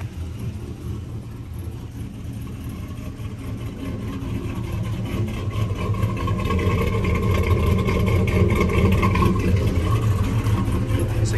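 A built, rebuilt 6.0 engine swapped into a Chevrolet Silverado runs with new cam, lifters, heads and pistons. It gives a steady, close, rumbling idle that grows slightly louder over the stretch, with no talking.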